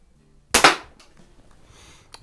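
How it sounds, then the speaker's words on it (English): A vintage Benjamin 137 or Crosman 130 multi-pump air pistol fires once, a sharp, loud, close crack with a quick double attack, followed by brief faint mechanical clicks. "A lot of fun shooting these old guns."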